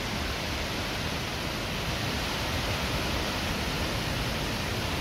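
The Misol-Ha waterfall cascade in Chiapas, Mexico, roars with a constant, loud, broadband rush of falling water, unbroken and close by.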